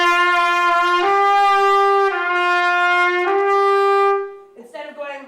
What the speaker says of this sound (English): So if I'm playing on a trumpet and I don't tongue, it would just sound like this.